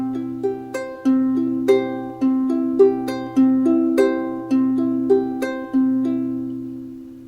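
A ukulele plays one short measure of plucked notes, repeated several times in a steady loop, close and clear with no talking.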